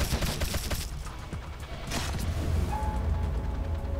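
Gunfire aimed at robots in the video game Wasteland 2, a burst of rapid shots along with mechanical clanks and creaks, fairly faint and playing on its own.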